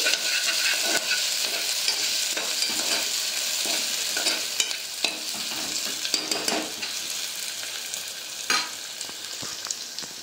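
Monitor lizard curry sizzles in a pan while being stirred, a continuous frying hiss broken by repeated scraping and clinking of a spoon against the pan.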